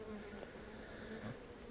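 Honeybees buzz steadily in an open Cornish hive, a dense continuous drone close to the listener with no voices.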